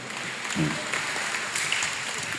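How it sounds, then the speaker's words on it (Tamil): A church congregation applauding during a Eucharistic celebration: a brief, dense wash of clapping that stays steady throughout. "நல்லா கைத்தட்டி பிள்ளைகளை உற்சாகப்படுத்துவோம்."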